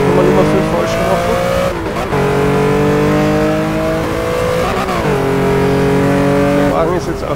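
A race car in the RACE 07 video game, driven on a hill-climb course, revs loudly and close through repeated upshifts, with tires squealing under the engine note.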